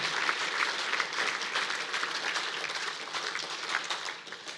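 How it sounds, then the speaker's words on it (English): An audience at a school sports team's end-of-season awards ceremony claps steadily for several seconds. The applause is moderately loud and dense, with no voices over it. "So let's give a round of applause for that too."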